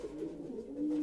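A racing pigeon coos in a low, steady, throaty warble that holds for about a second, fairly close and with no voices over it.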